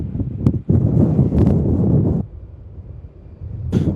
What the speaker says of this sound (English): Apologies for the wind, it's quite windy this afternoon